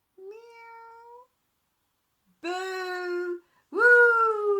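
A kitten meows three times, close and clear, each meow drawn out with short pauses between, the last one the loudest.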